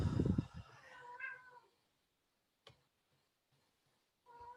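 A cat gives a loud meow up close at the start, followed by a quieter trailing meow, then near silence broken by a few faint ticks and soft knocks.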